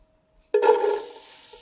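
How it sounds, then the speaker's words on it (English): Finely chopped small onion dropped into a hot soup pot with melted fat over medium-high heat, bursting into a sudden loud sizzle that quickly settles into a steady, softer crackling fry, close up and alone. "Hear the sizzle."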